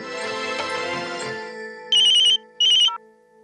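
An electronic telephone ringtone sounds in two short, loud bursts, close by, as a call is placed during a scene in an Indian TV drama, after a stretch of low background sound.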